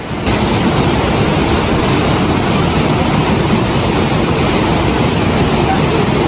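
Waterfall at Curug Putri Kencana in Bogor, a loud, steady broadband rush of falling water that fills the whole clip without letup.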